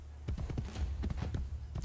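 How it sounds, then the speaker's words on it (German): Horses walking slowly in Assassin's Creed Brotherhood, hooves giving a steady, fairly close clip-clop over a low game ambience, with no talk. "Vor allem, wenn die Pferde so langsam laufen."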